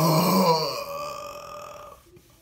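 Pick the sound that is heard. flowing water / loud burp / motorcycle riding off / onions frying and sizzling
loud burp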